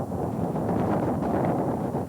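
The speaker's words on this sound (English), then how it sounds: "You're probably getting a lot of wind sound because it's very windy right now." Strong wind at the Grand Canyon buffets the microphone, a loud low rumbling roar that surges and gusts continuously with no talking.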